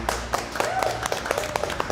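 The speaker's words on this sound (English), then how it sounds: "Let's start off by giving yourselves a round of applause" Contestants on a vegan cooking show clapping, a small group's scattered, uneven handclaps with distinct individual claps rather than a full roar, fairly faint.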